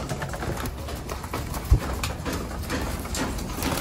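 Soft pet pigeon cooing close by over a steady rustling background, with one brief low thump partway through.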